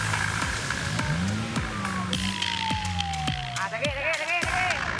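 An ambulance carrying a body, stuck on a damaged road in Merangin, Jambi, sounds a siren with a falling then warbling wail at a moderate distance, over traffic noise and sharp clanks.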